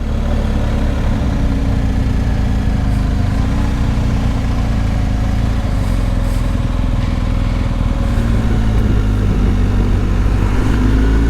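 A BMW R1250 GS Adventure motorcycle engine idles close up and loud, running at a steady, even throb from start to end with no voices.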